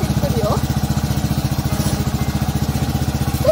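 Cold motorcycle engine idling close by with a fast, even, loud pulsing putter that holds steady throughout, and a brief faint squeak partway in.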